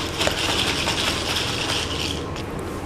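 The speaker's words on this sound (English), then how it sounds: "Stir to combine." Ice cubes rattle and clink in a 16 oz cup as iced cold brew coffee with Monin caramel syrup is stirred, a steady close-up churning and clattering that eases off near the end.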